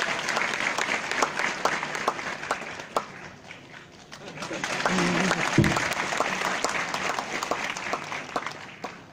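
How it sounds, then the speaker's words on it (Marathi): An audience claps for the guests at an IAS officer training workshop, dense sustained applause from a crowded hall that dips briefly and then swells again, with a voice sounding over it. "सगळ्या पाहुण्यांसाठी टाळ्या वाजवा"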